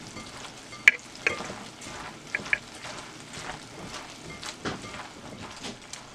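Baking soda being mixed into cut okra by hand: soft, irregular wet stirring and scraping with a few sharper clicks of the utensil, close and fairly quiet, with no talking.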